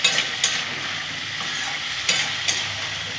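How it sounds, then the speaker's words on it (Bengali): Turmeric and tomatoes fry in a pan for a Bengali dalia and moong dal khichuri, giving a steady close sizzle broken by a few sharp scraping stirs of a spatula, with no voices. "হলুদ দিয়ে দিলাম, টমেটোগুলো দিয়ে দিলাম। খুব ভালো করে আমি ভেজে নেব।"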